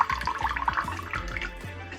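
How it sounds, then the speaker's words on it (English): Water runs from a Nescafé Dolce Gusto Lumio coffee machine with the lever set to cold, giving a continuous trickling flow over a repeating low pump-like pulse, close and moderately loud with no speech. "the water is flowing"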